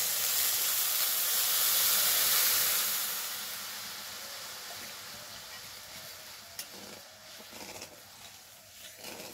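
Water poured into sugar in a hot wok to make syrup gives a loud hissing sizzle that peaks early, then settles into a softer bubbling simmer with faint stirring clicks.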